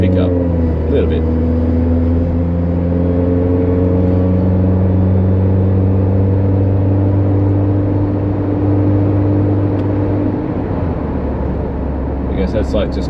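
Inside a Suzuki Jimny fitted with a 2.5 inch exhaust and extractors, cruising around 70 km/h: a steady, loud, low engine drone that holds evenly, then its pitch dips slightly near the end.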